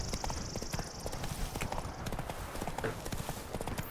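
Hooves of Roach, Geralt's horse in The Witcher 3: Wild Hunt, clip-clop in a quick steady rhythm along a road, close and clear, with a brief whinny-like tone near the start and faint in-game ambience.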